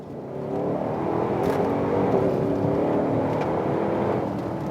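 A powerful AMG sports SUV engine rumbles and revs up, a deep continuous roar swelling and holding steady, fairly close with no talking.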